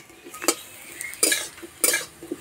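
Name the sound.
potatoes frying and being stirred on a clay stove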